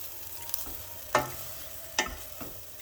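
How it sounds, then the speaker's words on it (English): Diced white onion fries in a pan with a quiet, low sizzle, interrupted by a few sharp scraping stirs of a utensil against the pan. "Add the diced white onion and cook it till it looks translucent."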